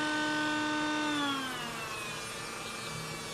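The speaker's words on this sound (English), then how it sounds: "Take that sanding cylinder right into the foam" Dremel with a sanding cylinder cutting indents into foam brackets for an Iron Man MK IV arc reactor build, a steady close whine that drops in pitch partway through as it bites in, with no voices.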